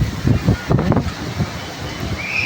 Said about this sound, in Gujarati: પવન એ તો ડમરીઓ ચડે